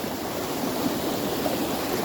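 A mountain river in full flow, heard as a dense, constant roar of rushing water, loud and close with no pauses.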